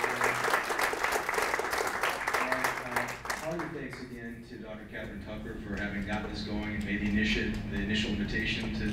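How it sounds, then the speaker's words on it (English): Warm applause from an audience at a university business talk after a guest speaker, steady and full-bodied for several seconds, then fading into a murmur of talking voices. "one more round of applause for Dean"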